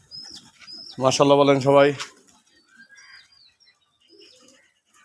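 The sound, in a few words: native pigeons cooing on a pigeon farm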